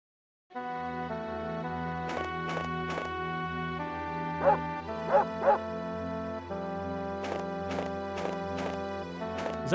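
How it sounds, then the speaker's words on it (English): A dog barking in Mizzurna Falls, three short close barks in quick succession over steady tonal background music. "That's our dog."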